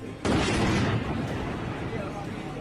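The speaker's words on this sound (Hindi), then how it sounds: "तेहरान में फायरिंग की आवाजें आ रही हैं" A sudden loud burst of gunfire in Tehran, then a sustained rumbling roar of noise that lingers for a couple of seconds without clear pauses.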